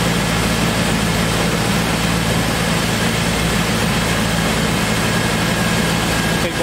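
Roadtrek camper van engine idling with its radiator fan running, a steady broadband whir and low rumble, close and constant throughout.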